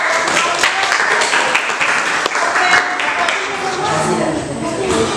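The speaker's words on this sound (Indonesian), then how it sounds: "tepuk tangan untuk kelompoknya Alika" Classroom applause for a student group, a loud stretch of many hands clapping with sharp individual claps standing out, while voices talk over it.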